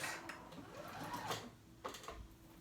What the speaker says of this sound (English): So now very carefully, I'm gonna sew this on, just a straight stitch down the middle of those ruffles.